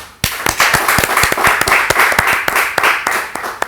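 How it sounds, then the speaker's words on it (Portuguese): Lively clapping from a debate show's studio audience, starting abruptly and building into a loud, close round of applause with distinct individual claps standing out. "Quero pedir uma salva de palmas pela vossa presença."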